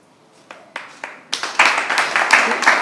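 An audience breaks into applause at a band performance, a few scattered claps first and then building into dense, loud, continuous clapping nearby.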